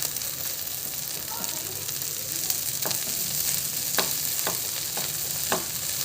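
Egg bhujiya, scrambled eggs, fries in a pan with a steady close sizzle, broken by a few sharp clicks and scrapes of stirring.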